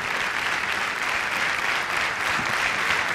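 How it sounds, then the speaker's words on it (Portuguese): Casino show audience bursts into continuous applause, many hands clapping in a dense, even wash that stays loud and unbroken. "receba o aplauso"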